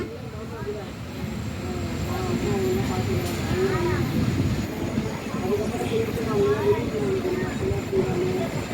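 A passenger train on the Trichy–Thanjavur line pulls away from Thondaimanpatti station after a short halt, with a continuous rolling rumble. Voices talk over the steady clatter.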